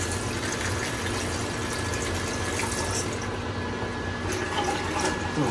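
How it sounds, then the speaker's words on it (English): Water pouring into a pan holding tomatoes, chile, garlic and jalapenos for salsa, a steady broadband splashing wash that runs unbroken for several seconds, close and moderately loud, with no talking over it. "I'm gonna add a little bit of water to this."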